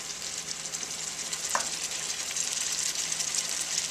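A spatula stirs brown sugar and heavy cream in a hot pan, giving a steady close sizzle and a soft scraping stir, with one brief tap partway through.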